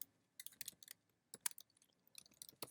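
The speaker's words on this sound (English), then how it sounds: "So let's go ahead and type in filter." Fingers type on a computer keyboard in short, quiet bursts of quick clicks separated by brief pauses, with no talking.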